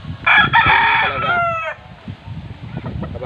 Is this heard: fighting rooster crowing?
yes